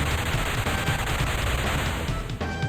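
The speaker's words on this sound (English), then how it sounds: "Mecha Lynx collapses to the ground, exploding in chain reaction" A continuous loud crackling rumble of explosions in the video game Radical Dreamers as Mecha Lynx blows apart in a chain reaction, a dense rattling barrage with a brief dip near the end.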